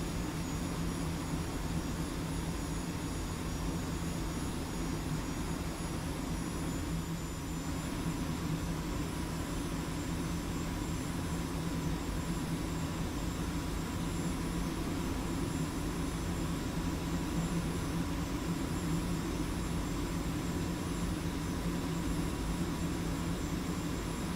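A-10 jet aircraft in a flight simulator game gives a steady, unbroken engine drone with a faint high whine on top, holding an even loudness throughout with no voices.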